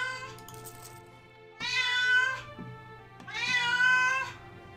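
Indoor house cat meowing insistently nearby, two long drawn-out calls separated by a pause, loud and clear over a faint steady background hum.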